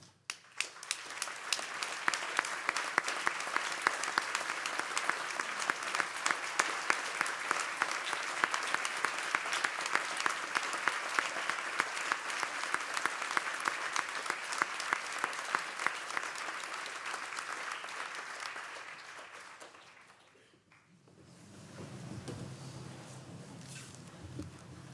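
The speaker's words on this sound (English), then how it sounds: "could we all please give them a well-deserved round of applause?" An audience at a university graduation ceremony applauds the student mentors with loud, sustained clapping for about twenty seconds. The applause then fades to a quieter hall with low background murmur.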